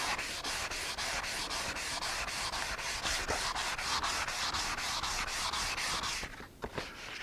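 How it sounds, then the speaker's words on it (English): Wood hand-sanded with fine 600-grit sandpaper in fast, even back-and-forth strokes, a continuous close scratchy rasp that stops abruptly near the end. "the finer you sand something, the more you tend to seal it."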